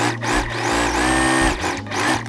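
A sewing machine runs in steady bursts while stitching folded binding tape onto the open edge of a shoulder strap for a refashioned sleeveless top, its motor whirring loud and close with short pauses between runs.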